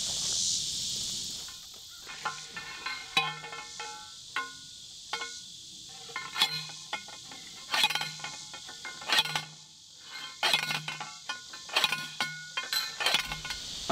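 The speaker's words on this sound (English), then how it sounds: "So I'm going to just use my post driver to drive these in," A post driver slamming grounding rods for an electric fence into rocky ground, about a dozen sharp metallic clanks spaced irregularly about a second apart, close and fairly loud over a quiet outdoor background with a hiss at the start.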